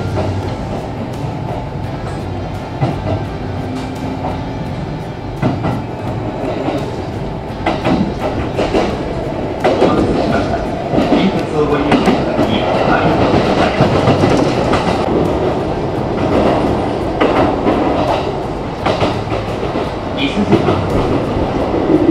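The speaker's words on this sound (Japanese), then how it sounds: "直後に出発する伊勢中川行き普通電車に乗車して移動します" Steady rumble of a Kintetsu local train bound for Ise-Nakagawa running along rails, with rhythmic clattering of wheels over joints throughout and faint broadband rushing noise.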